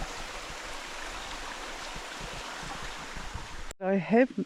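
Water trickles steadily and fairly close by a lake in autumn France, a soft continuous wash that cuts off abruptly near the end as a voice begins speaking.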